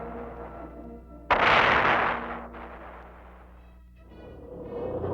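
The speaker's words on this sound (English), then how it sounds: "these artillery units deliver their fire right on the button" A single loud boom from a 4th Armored Division artillery piece firing bursts out mid-clip and rolls off into a fading rumble, with low mechanical noise before and after.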